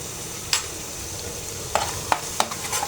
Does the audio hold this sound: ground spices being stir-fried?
yes